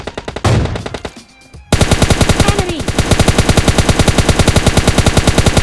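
Automatic gunfire in PUBG Lite: a brief burst and pause, then a long, loud, steady run of rapid shots at an even rhythm, close and dominant with no talk.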